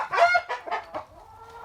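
Chickens clucking close by in a homestead coop, a few rapid bursts of clucks followed by a softer drawn-out call, with no talk.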